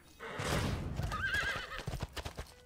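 A horse in the Hearthstone video game lets out a loud, close whinny that rises and wavers, followed by a quick run of clip-clop hoof beats.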